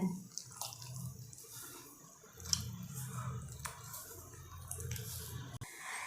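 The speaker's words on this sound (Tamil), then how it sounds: "இப்போ இது எல்லாத்தையும் சேர்த்து நல்லா கட்டி பிடிக்காமல் கையிலையே கரைச்சி விடுங்க" Hands squeeze and mix tamarind paste with water for a Kendai fish curry, making soft, close, wet squelches and light sloshing, quiet with no talking.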